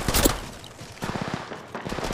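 Gunfire in Apex Legends Mobile, with a loud sharp burst at the start followed by quicker rattling volleys of shots, close and dense, no talking.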